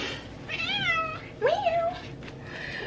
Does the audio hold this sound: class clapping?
no